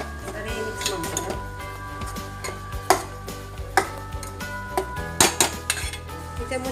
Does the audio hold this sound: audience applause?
no